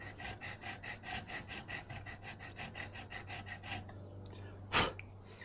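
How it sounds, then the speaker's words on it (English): Hand file rasping back and forth in a guitar nut slot at the headstock, a steady run of close strokes, then a pause and one louder scrape near the end. "being very careful that I don't file the wood on the headstock veneer"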